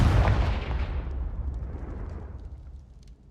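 A Confringo fire spell cast in the Hogwarts Legacy video game lands as a single loud fiery blast with a deep boom that rolls off and decays over a few seconds.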